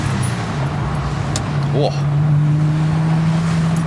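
A Porsche Boxster accelerates at full throttle, its engine drone building steadily and loudly from inside the car, while a voice gives one brief exclamation partway through.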